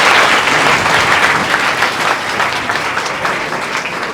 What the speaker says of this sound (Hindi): तो जोरदार तालियां बजा दीजिए।